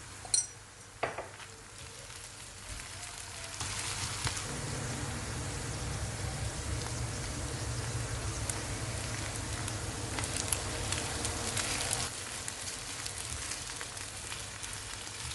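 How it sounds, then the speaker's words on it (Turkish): Potatoes and spices for a börek filling sautéing in a pan, a soft continuous sizzle with a couple of utensil clinks at the start and occasional scraping. "Patatesle de 1-2 dakika kavurduktan sonra"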